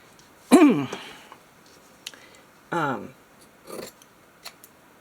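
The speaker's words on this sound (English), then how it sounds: "first I gotta trim my edges, my corners" Scissors trim the fabric edges and corners on a journal cover, producing a few distinct close snips spaced apart with quieter clicks between them.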